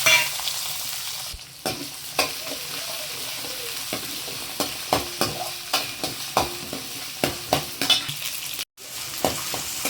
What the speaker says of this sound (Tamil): சோம்பெல்லாம் பொரிஞ்சோடனே இந்த சின்ன வெங்காயத்தை இதில் சேர்த்துக்கலாம்.